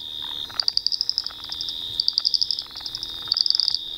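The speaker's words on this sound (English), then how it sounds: "Here we can see all the males as they froth up the foam and they churn the eggs into the foam." Frogs at night around a foam bubble nest, with rapid trains of high, rattling chirps repeating in pulsed bursts over a steady insect-like drone, fairly close.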